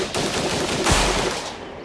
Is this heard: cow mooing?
no